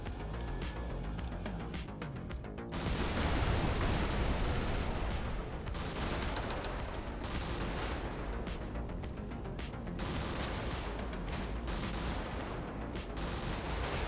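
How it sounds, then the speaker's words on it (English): Weapon fire from a shotgun laser in the Brigador video game, a dense stream of rapid bursts and blasts running continuously at moderate level with a heavier surge early on. "it's the shotgun laser, yeah."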